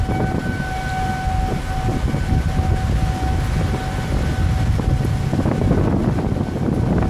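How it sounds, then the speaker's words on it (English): Steady wail of outdoor tornado warning sirens in Pine Bluffs, Wyoming, during a supercell storm, holding two sustained tones, heard from a distance over constant wind rumble and gusty microphone noise. "Sirens going off."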